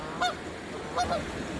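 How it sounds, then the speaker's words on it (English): Two short, clear goose honks about a second apart, mid-distance, at a quiet canal park lily platform outdoors with faint background ambience. "We got a goose. Hey, geese."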